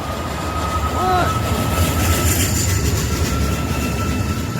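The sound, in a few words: train passing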